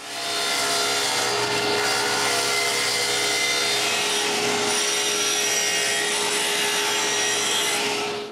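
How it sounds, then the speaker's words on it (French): A table saw cuts a cove into wood boards fed across the blade at an angle, producing a loud, continuous rasping whine that runs steadily for several seconds, close up. "je coupe un creux avec le banc de scie en passant le bois en angle"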